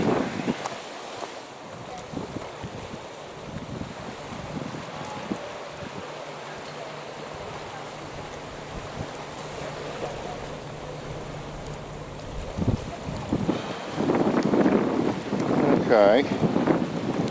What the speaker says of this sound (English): It's calm enough here, but there's quite a breeze blowing.